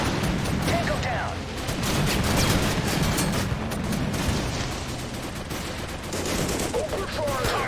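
Sustained rattling squad gunfire in the Total Conflict modern army shooter, rapid overlapping automatic and single shots keeping up steadily throughout, with voices speaking in between.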